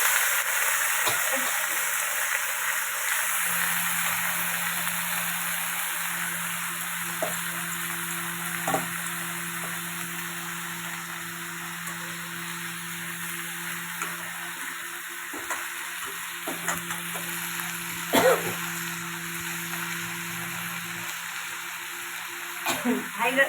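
Gobindobhog rice frying in a pan for vegetarian khichuri, a steady close sizzle with occasional scraping stirs and small clinks running throughout.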